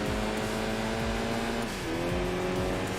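A lightweight, agile Toyota MR-2 in the Enthusia Professional Racing video game, its engine droning steadily and loud throughout with a brief dip and shift in pitch midway, like a gear change.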